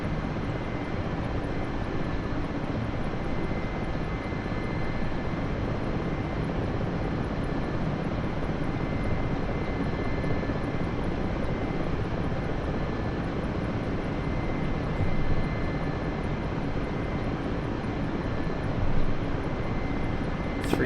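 A propeller-driven aircraft in the DCS flight simulator drones steadily and evenly as it circles, a faint continuous engine roar with no change in pitch.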